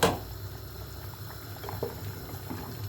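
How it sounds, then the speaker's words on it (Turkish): A pot of chickpea and vermicelli soup simmers and bubbles softly at close range, a faint steady burble with small pops, no voices. "kaynıyor."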